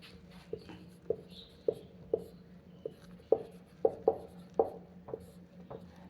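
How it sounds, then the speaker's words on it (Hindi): Chalk or marker writing on a board, a series of sharp taps and scratchy strokes in an uneven rhythm, with a steady low hum underneath and no speech. "तो चलिए हम पहले टॉपिक को लिख लेते हैं।"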